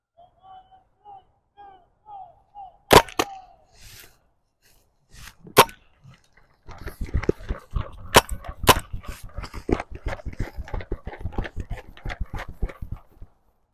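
Magfed paintball markers fire during an outdoor game, with a few sharp pops at first and then a busy burst of rapid, irregular shots and clattering impacts, some loud and near, others softer and further away.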